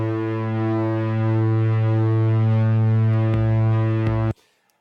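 Synth pad opening a song: a loud, steady sustained chord with a rich harmonic tone holding evenly for several seconds, then stopping abruptly.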